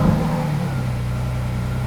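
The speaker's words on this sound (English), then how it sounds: "We're in the Murcielago. Fire this bad boy up." A Lamborghini Murcielago Roadster engine fires with a brief burst, then settles into a steady, deep idle rumble close by.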